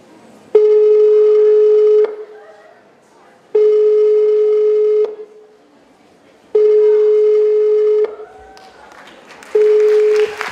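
Repeated telephone tones on a stage during a school performance of Aristophanes' The Birds: four steady, loud tone bursts of about 1.5 seconds each, separated by short gaps, with faint stage noise between them.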